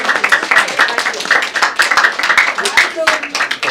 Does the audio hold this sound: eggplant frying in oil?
no